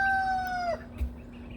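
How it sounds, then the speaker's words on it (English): A single Easter Egger rooster crows once, close and clear, its drawn-out call falling in pitch at the end, with a low steady hum running underneath. "Most of my roosters are Easter egg roosters."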